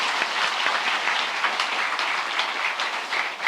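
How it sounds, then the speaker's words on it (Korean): Church congregation applauding an orchestra and combined choir at a Sunday afternoon cantata service, a steady dense wash of many hands clapping throughout, fairly loud and close, with no voices over it. "우리 박수로 격려하겠습니다."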